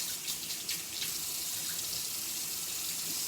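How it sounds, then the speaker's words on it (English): Tap water runs steadily into a sink during a hurricane power outage, a constant close hiss and splash with no speech. "Water's gonna take a moment to warm up here"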